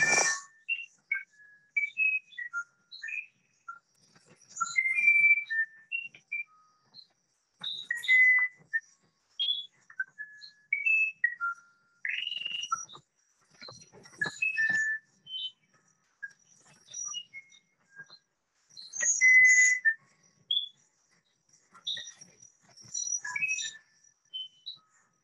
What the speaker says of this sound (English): that's a bird, and this is the musician wren that are in groups.